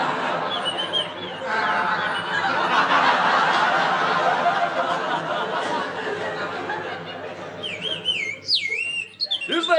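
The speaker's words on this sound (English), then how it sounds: "Is that not the bird that has kept us awake o' nights?" A bird call sound effect from a 1960 radio comedy: warbling whistled chirps that rise and fall, heard loudly over laughter and background murmur.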